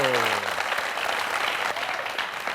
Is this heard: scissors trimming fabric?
no